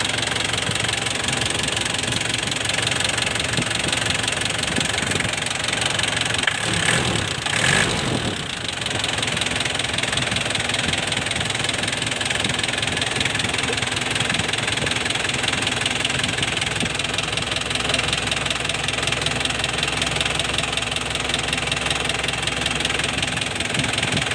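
A Nissan Big M pickup truck engine idles steadily with a rough, knocking rumble, close and continuous throughout.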